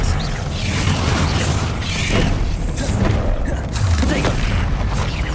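Spell blasts from Confringo and Bombarda in the Hogwarts Legacy video game, dense booming impacts layered with mechanical clatter in a busy, continuous combat mix, with voices calling out over it.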